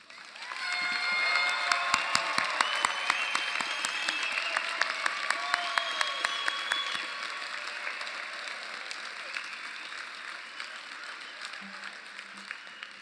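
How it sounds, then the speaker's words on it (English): A large audience applauds graduates at a 2016 university architecture and design commencement ceremony, with sustained clapping and some cheering that fills the hall for over ten seconds before slowly thinning out. "Please give our graduates a final round of applause."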